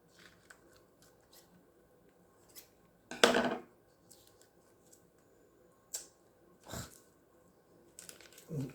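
Plastic bag being trimmed with scissors during resin coaster crafting: a few sharp cutting snips and crinkles, one louder burst, separated by quiet pauses.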